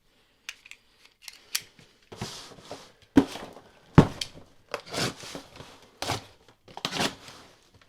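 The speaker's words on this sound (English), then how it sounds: "Let's go ahead and cut into this and show you guys what we got back." A cardboard shipping box sliced open with a blade, irregular close scraping, cutting and crinkling sounds in short bursts with quiet gaps.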